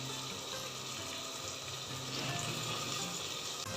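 Water poured into a pot of vegetable biryani, a quiet, steady stream of liquid that fills the whole moment with no voices.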